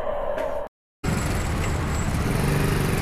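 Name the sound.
road traffic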